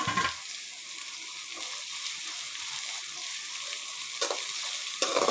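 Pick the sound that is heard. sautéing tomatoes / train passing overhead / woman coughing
sautéing tomatoes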